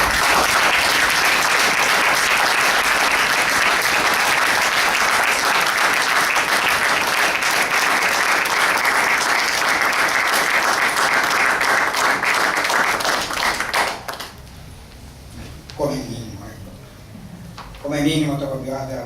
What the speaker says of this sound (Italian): come minimo Carlo Bioratti veramente questo applauso se lo meritava